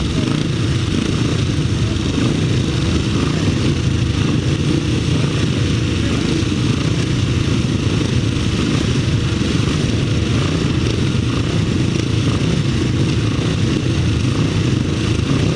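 Grasstrack solo motorcycles racing in the upright final, a dense continuous roar of several engines howling together at full throttle without letup, loud and near throughout.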